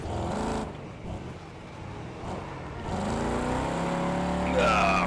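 Race car engine in a racing video game, droning and revving through corners with pitch rising near the end, loud and continuous with game effects mixed in.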